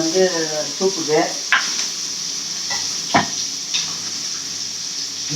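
Masala sautés in a pan for a chicken gravy, a constant hiss of frying broken by several sharp stirring scrapes and clinks, with a voice speaking briefly at the start.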